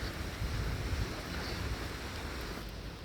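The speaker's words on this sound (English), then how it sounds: "And the water is really flowing tonight." River water rushing steadily through Düsseldorf at night, a continuous broadband wash with wind noise on the microphone, no voices over it.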